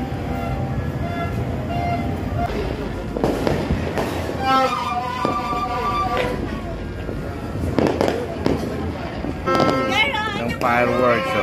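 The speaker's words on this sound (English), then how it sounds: "so we're viewing for the fireworks here in Taguig." New Year fireworks over Taguig City boom and crackle continuously at a distance, with scattered louder bursts, while people talk over the din.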